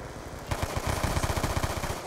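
Rapid pistol fire from dual pistols in Call of Duty: Black Ops II, a dense run of sharp shots that starts after a half-second lead-in and continues in a steady, fast rhythm.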